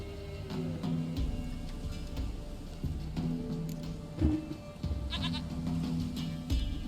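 Repeated close bleating from a goat in The Witcher 3, several wavering cries spaced across the stretch over a steady background drone.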